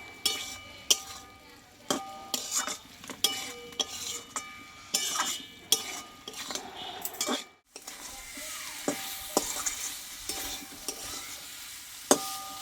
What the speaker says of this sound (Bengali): কিছুক্ষণ পটলটা এভাবে কিন্তু নাড়াচাড়া করে নিতে হবে যাতে মশলাটা পটলের মধ্যে ঢুকে যায়